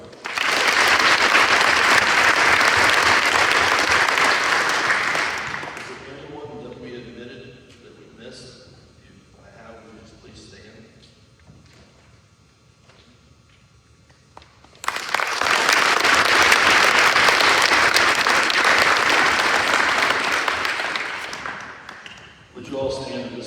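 At a high school Veterans Day program, an audience bursts into loud sustained applause, then falls quiet under a brief spoken passage before a second strong round of clapping returns.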